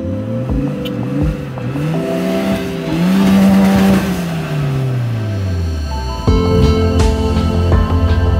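An off-road motorhome engine revs hard and loud, climbing in repeated pulls toward the rev limiter and then dropping back, with a close, roaring tone throughout and no voices.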